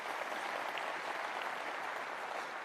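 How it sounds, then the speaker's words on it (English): Steady, dense applause from a large audience at a gubernatorial inauguration ceremony in Illinois, continuous and even throughout, heard at a moderate distance with no speech over it. "Yeah, you can clap to that"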